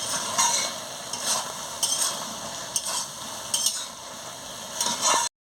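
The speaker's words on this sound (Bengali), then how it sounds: "দিয়ে ভালো করে নাড়িয়ে নিচ্ছি।" A Bengali chorchori of chichinga, kundri and potato is stirred in a pan, with a soft sizzle under rhythmic scraping strokes about once a second before the sound cuts off abruptly.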